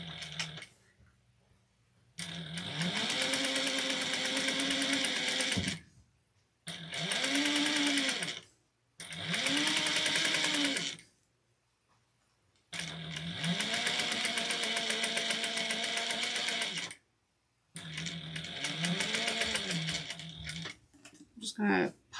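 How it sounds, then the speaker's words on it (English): A sewing machine stitching a thick strap at a long stitch length, running in loud, even bursts of a few seconds each with short pauses between, close up and with no talking. "we're going to sew 1/8 of an inch all the way down"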